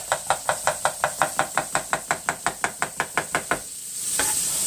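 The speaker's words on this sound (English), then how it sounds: "Now, I like to cut things like this on the bias." A knife chops vegetables on the bias against a cutting board, about twenty quick even knocks in steady rhythm, close and loud, followed by a soft sizzle from a sauté pan.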